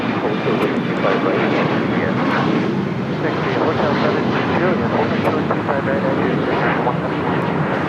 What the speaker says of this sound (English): Next takeoff heading to Houston. United Airlines Flight 1416. It's a 737